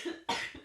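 A single person coughs twice in quick succession, a short throaty burst followed by a sharper, louder hack, close and dry with no other sound.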